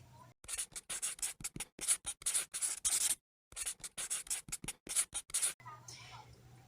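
Pen or marker strokes scratch and squeak across a writing surface while a physics problem of two colliding blocks and a compressed spring is drawn by hand, in short bursts with a brief pause, close and moderately loud.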